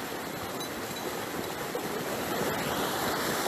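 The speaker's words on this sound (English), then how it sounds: "River vibes." River water flowing near a Maroon village at Charles Town, Jamaica, a steady rushing wash that swells slightly toward the end, moderately loud with no speech.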